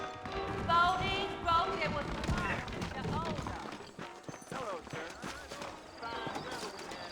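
Horse hooves clip-clop along a trail in a Red Dead Redemption game scene, a steady rhythmic patter mixed with music and occasional talk.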